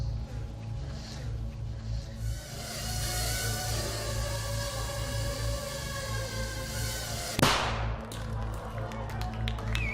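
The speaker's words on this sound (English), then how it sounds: "That little bang is enough to penetrate the skull and destroy the contents." A small charge of 3 grams of shaped explosive detonates once: a single sharp, brief bang near the end, rising over a steady low hum and a faint background tone.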